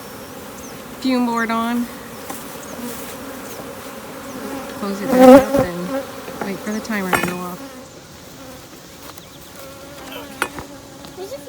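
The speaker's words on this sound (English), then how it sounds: "There's a few bees." Honey bees buzz around an open hive during a honey harvest while supers are pulled with a fume board. A faint, continuous insect drone sits beneath close, clear talk from a beekeeper, with a few sharp knocks mid-way.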